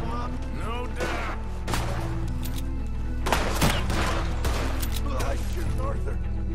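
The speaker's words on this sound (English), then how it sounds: "I shoot, Arthur. Can hardly see what I'm shooting at" Gunfire in Red Dead Redemption 2 during a night shootout, with sharp shots popping over a constant loud game score and ambience, while characters talk throughout.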